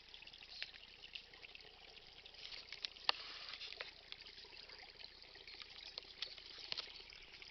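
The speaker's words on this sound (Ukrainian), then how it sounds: "Тут вода тече. Як вода тече у каналізацію." Water trickles and pours steadily into a drain at an outdoor spot, a faint, continuous splashing stream with small sharper drips and spatters scattered throughout.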